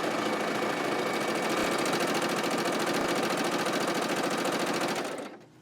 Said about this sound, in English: just stitch right off the fabric and chain stitch